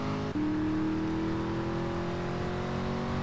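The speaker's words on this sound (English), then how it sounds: "Now his car has, a faster acceleration rate, but your car, the limo, has a faster top speed" A car engine in GTA Vice City revs up during a chase, a steady rising engine tone held close and loud after a brief dip at the start.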